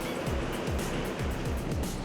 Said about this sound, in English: This giant cauldron is bubbling at 100 degrees Celsius.